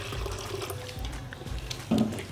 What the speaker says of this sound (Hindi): मैं इसमें आधा कप पानी ठंडा ऐड कर रही हूँ।